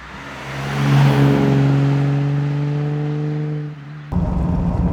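A 1953 Aston Martin DB2 Vantage Drophead Coupé accelerates hard up a quiet mountain road, its engine note climbing steadily in pitch for several seconds before a gear change cuts in, loud and close.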